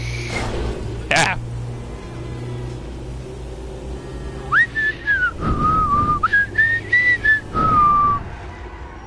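Someone whistles a wavering tune in clear, sliding notes with short breaks between phrases, close and fairly loud, over a low rumble, with talking nearby.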